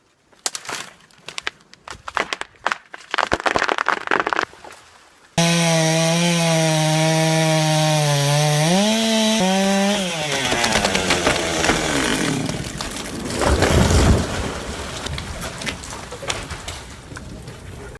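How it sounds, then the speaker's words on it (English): A professional high-speed wood-cutting saw blade spins up with a loud steady whine on a clifftop tree, pitch sagging as it bites into the trunk, then giving way to rough grinding and crackling wood, after scattered knocks at the start. "The sound of the saw blade cutting through the air was like a powerful buzz."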